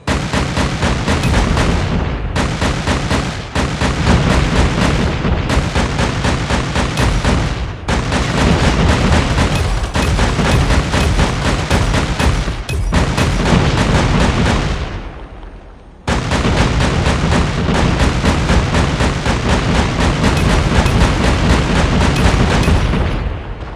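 VTOL gunship firing in Call of Duty Mobile, continuous loud heavy booming and rapid gunfire that nearly fills the whole stretch, with a few very short breaks.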